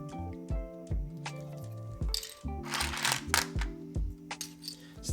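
Plastic keyboard keycaps clatter as they are lifted out of a storage box, a run of quiet, close clicks and small rattles with brief louder bursts of jostling, and no voice.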